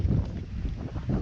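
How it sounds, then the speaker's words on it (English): Strong wind buffets a small Gheenoe boat on the water in the Everglades, a steady low roar of gusts pressing on the microphone, loud and continuous for a moment with no voices. "It's extremely windy."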